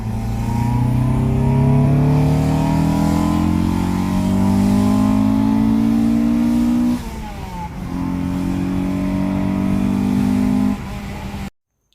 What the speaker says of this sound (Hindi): तो अभी इसका सेकंड गियर का पुल आप दिखेगा